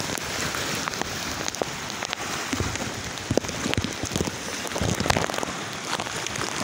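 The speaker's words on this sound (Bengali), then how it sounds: "আবার পর্যাপ্ত পরিমাণ বৃষ্টি হচ্ছে" Heavy rain from Cyclone Remal pours down in Barguna, Bangladesh, a dense, continuous patter of drops striking surfaces nearby, with no voices.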